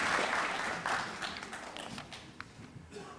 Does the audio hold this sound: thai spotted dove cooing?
no